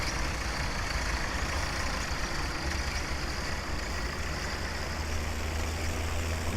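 A tractor in Farming Simulator 17 drives along with a steady, low engine drone and a constant broadband rumble, unchanging and moderately loud, with no voices.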